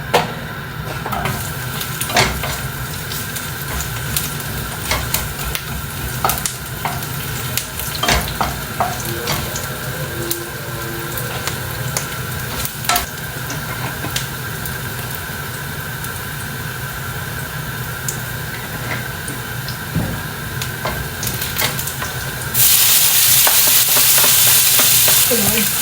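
Food frying in a pan and being stirred, a steady close sizzle with occasional scraping and clinks of the utensil, the hiss swelling louder near the end.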